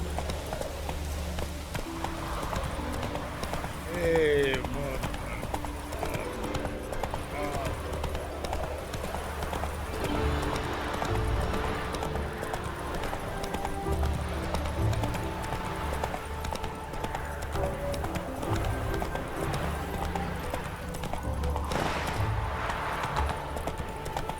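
Horse hooves clip-clop at a steady gallop in The Witcher 3, a continuous rhythmic beat under a voice and ambient game music.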